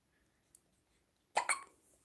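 A six-day-old newborn baby hiccups twice in quick succession, close and soft in a quiet room, with a faint click just before.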